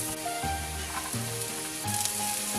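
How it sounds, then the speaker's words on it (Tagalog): Garlic and onion sauté in melted butter and oil for a macaroni dish, giving a steady, close sizzle with occasional stirring scrapes and no talk. "Nawa magigisa na ako ng bawang."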